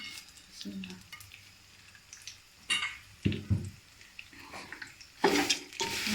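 Almonds and pistachios roasting and being stirred in a pan for Punjabi panjiri, with soft scraping and light sizzling that rise in a few louder stirring bursts near the end.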